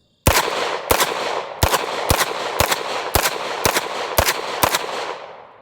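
A 9mm handgun loaded with Hornady Critical Defense rounds fires nine sharp, loud shots at a steady, moderately quick pace outdoors, each crack followed by a short decay, with no talking.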